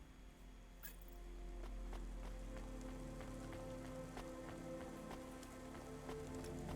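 Rain pattering steadily on a surface outdoors, a constant close wash of drops with scattered sharper taps, heard alone without speech.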